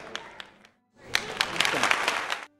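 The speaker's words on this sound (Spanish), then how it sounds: "los aplausos están en algún lado" Recorded applause sound effect, a short burst of clapping that cuts out, then returns fuller and denser before stopping abruptly.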